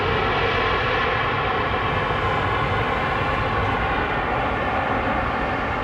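Airliner with LEAP engines at Heathrow Airport, a steady loud broadband engine roar holding evenly throughout without any voices.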